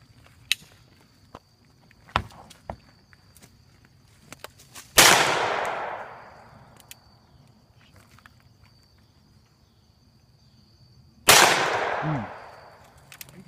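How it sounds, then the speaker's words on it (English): Two loud, sharp reports from a Ruger Blackhawk .44 Magnum revolver firing hollow-point rounds into a pumpkin outdoors, each with a long fading echo, separated by several seconds of quiet with faint shuffling and small knocks. "Dundee about to Dundee the pumpkin. With a 44 mag"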